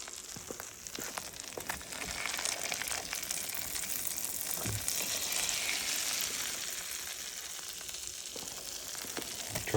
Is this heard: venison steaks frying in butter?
yes